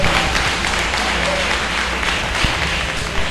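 A church congregation applauds during a sermon, producing a loud, dense, sustained wash of clapping that fills the whole stretch, with faint voices beneath.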